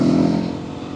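A big 450 motorcycle engine revving up close, loud and rough, its tone easing slightly over a brief moment with no talk.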